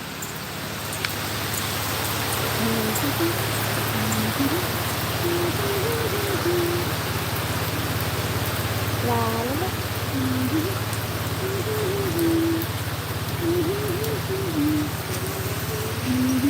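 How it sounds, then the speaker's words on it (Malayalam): Heavy rain falls steadily in Kerala, a dense, even roar throughout with a low continuous hum beneath and a voice faintly humming or talking now and then. "ഇപ്പം നല്ല മഴയുണ്ടേ കാണിച്ചു തരാവേ നല്ല മഴ"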